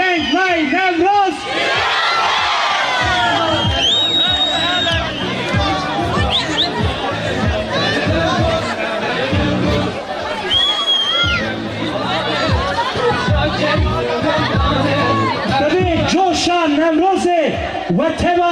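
A large outdoor crowd at a Newroz celebration cheers, whoops and claps with excitement, a loud, continuous roar of voices and applause that barely lets up throughout.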